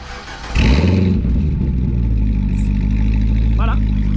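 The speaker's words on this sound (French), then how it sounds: "je suis pour un petit démarrage là, qu'on entende un petit peu les palpitations de ce cœur" A Cadillac CTS-V V8 on its stock exhaust with a valve cranks and fires up with a loud burst, then settles into a deep, rumbling idle close by. A voice can be heard faintly underneath.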